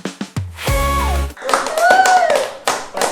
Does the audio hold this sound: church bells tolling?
no